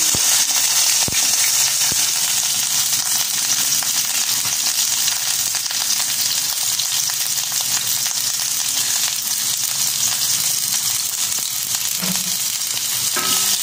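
Tomato, onion, ginger and chili sautéing for Bikol kusido, a steady loud sizzle and crackle of frying throughout, with occasional stirring knocks and a brief clatter near the end.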